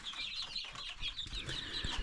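Around seventy chicks of five breeds cheep continuously in high, rapid peeps, overlapping into a busy chorus with some low rustling beneath.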